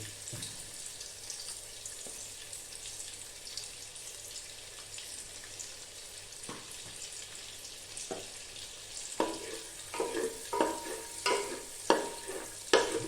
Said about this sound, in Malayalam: ഈ ബട്ടറിൽ നന്നായിട്ട് ഇളക്കുക